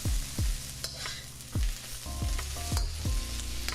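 Vegetables being stir-fried in a pan with a steady sizzle, broken by several sharp low knocks and scrapes of a utensil against the pan at irregular intervals.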